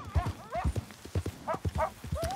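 Horse hooves clip-clop at a steady trot in Red Dead Redemption 2, close and clear in a regular rhythm of sharp knocks, with no speech.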